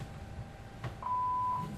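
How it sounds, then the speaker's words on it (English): A mobile phone notification sounds during a live comedy show, a single clear sustained electronic beep over quiet room noise. "That's my phone going off."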